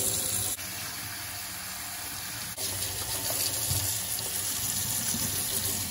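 Hot tap water runs steadily into a sink for cleaning a paint brush, a constant close splashing gush that continues without pause.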